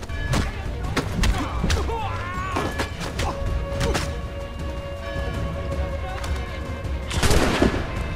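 Gunfire in Assassin's Creed III, a string of sharp cracks and thuds spread across a busy game scene, with a louder burst near the end, heard alongside game noise and voices.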